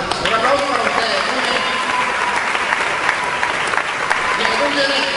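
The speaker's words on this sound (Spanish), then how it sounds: "Un aplauso para ustedes." A church crowd at an ecumenical pastor and priest gathering breaks into loud, dense applause that fills the whole stretch, with cheering voices blended into the clapping.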